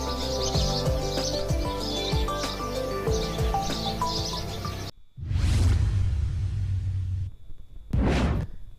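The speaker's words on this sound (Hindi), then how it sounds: "हम गौरैया की चहचहाहट को फिर से अपने आंगन में ला सकते हैं" Sparrows chirping in a courtyard, bright repeated tweets layered over music, followed by whooshing transition sounds.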